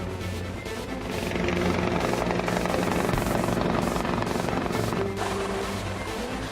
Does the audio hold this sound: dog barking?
no